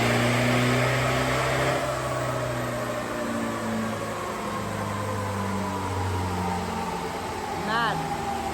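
A turbocharged Nissan GU Patrol's engine runs loud and steady on a dyno, its low droning tones rising and falling slightly under a broad roar, with a brief chirp near the end.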